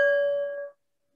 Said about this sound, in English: Beginning and ending this time with the ringing of this bell.